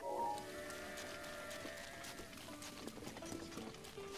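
A horse's hooves clip-clop in a steady, quiet rhythm in Zelda Breath of the Wild, mixed with soft game ambience and faint tonal effects, with no speech.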